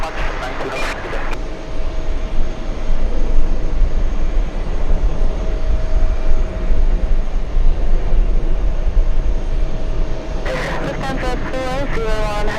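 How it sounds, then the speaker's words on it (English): An airliner roars down the runway on takeoff, a loud, steady broadband engine rush that holds for several seconds, with brief bursts of voice chatter at the start and end. "Racing down the runway"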